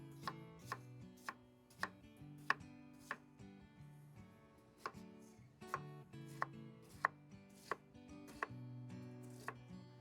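Onion being chopped with a knife on a cutting board while camping, a quick series of sharp, close knocks in an uneven rhythm, with no talking.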